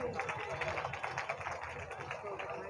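A crowd at a political rally in Muzaffarpur, Bihar, claps in dense, continuous applause with a busy patter throughout, and voices murmur under it.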